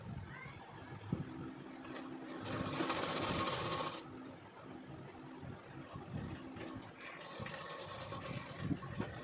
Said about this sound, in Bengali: দুটোই হাতা সেলাই করে নেব।